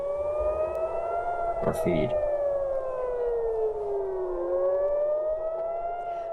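Civil defense sirens wail across Tel Aviv, a steady rising and falling tone that holds loud and continuous throughout, with a brief voice and a short burst of other noise near the start.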